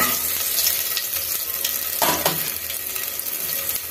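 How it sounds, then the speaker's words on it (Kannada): Horse gram fries in a pan while being stirred, a loud steady sizzle with a scraping stir swelling briefly in the middle. "ಈಗ ಸ್ವಲ್ಪ ಫ್ರೈ ಆಗಿದೆ"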